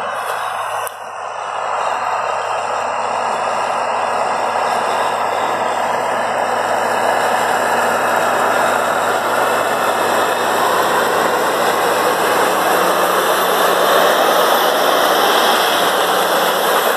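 A tractor pulls a Triton SP direct drill through heavy clay in snow, a steady loud engine drone with broadband mechanical rumble holding constant as the machine passes close by, no voices.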